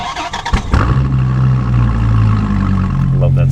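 A Dodge Viper ACR's powerful engine cranks and fires up, settling into a loud, steady rumbling idle close by.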